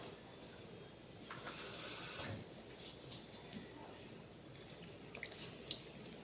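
Water pours into beef stew simmering in a home cooking pot, a faint watery trickle and hiss rising for about a second before trailing off into low background noise with small clinks.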